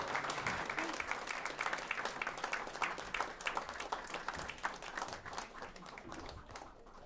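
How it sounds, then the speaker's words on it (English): Sustained applause from a large audience at a live New York City housing event for the mayor, dense steady clapping from many hands filling the room with no speech over it. "Please give us a round of applause for the mayor."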